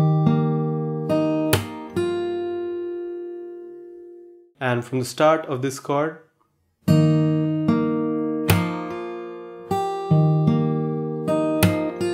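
Fingerstyle acoustic guitar plays an arrangement of a song, with ringing chords, single plucked notes and percussive slaps that stop for a short spoken passage in the middle before the playing resumes.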